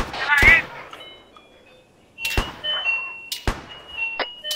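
Sharp gunshots in the video game Arma 3 ring out in sparse bursts, a few loud cracks separated by quiet gaps, with faint electronic tones lingering between them.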